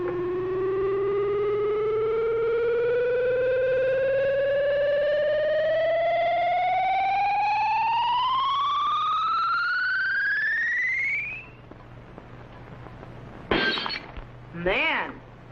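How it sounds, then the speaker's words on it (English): A science-fiction ultrasonic ray effect sweeps upward in pitch for about eleven seconds, a loud electronic rising whine with layered tones, then cuts off as a glass jug shatters in two short bursts of breaking glass. "whatever the beam hits will be instantly shattered by the ultrasonic sound wave vibrations"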